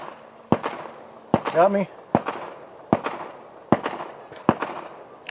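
Small, sharp clicks of a handgun's trigger reset, sounding as several evenly spaced snaps close by, with a brief spoken question between them.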